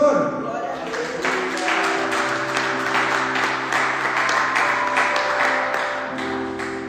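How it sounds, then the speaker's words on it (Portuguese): A church congregation applauds in praise during a worship service: a sustained patter of clapping from many hands, mixed with a voice and musical tones underneath, holding fairly steady throughout. "Aplauda o Senhor"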